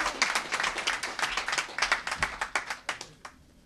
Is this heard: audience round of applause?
yes